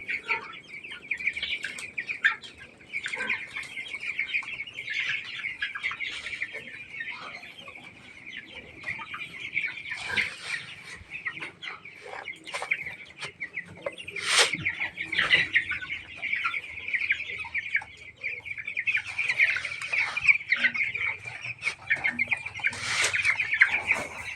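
A flock of broiler chickens in a rearing pen clucks and chirps steadily and fairly close, a dense continuous chatter with occasional louder calls, and no talking.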